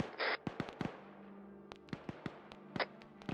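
Sharp, scattered gunshot cracks and pops ring out in a winter battle in the video game Arma 3, irregular and fairly distant, with brief louder bursts between them.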